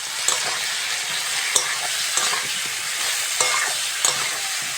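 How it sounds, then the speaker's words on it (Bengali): Ridge gourd frying in hot oil with spices being added, a steady loud sizzle broken by sharp scraping clicks of a spatula stirring against the pan every second or so. "ঝিঙেটা ভালো করে ভেজে নিয়েছি, এবার মশলাগুলো দিয়ে দেবো।"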